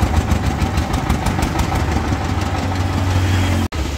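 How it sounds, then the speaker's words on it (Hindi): A sugarcane juice machine's engine runs loud and close with a steady, rhythmic knocking idle, then cuts out abruptly for an instant before continuing. "देखो अब ये इंजन स्टार्ट करेंगे जूस के लिए"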